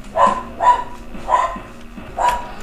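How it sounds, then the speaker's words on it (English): Four sharp dog barks sound at close range in an even rhythm, evenly spaced over a couple of seconds. "Shut up, dog."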